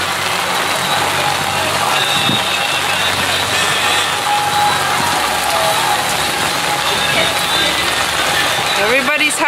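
Pouring rain drums hard and constant on surfaces at Venice Beach, California, a loud dense hiss filling the whole stretch, with a brief tonal sound near the end.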